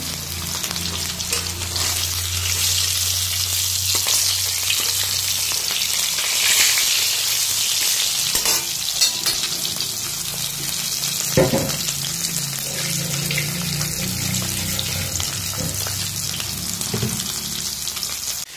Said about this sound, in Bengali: পরে এই মাছগুলো ভাজবো।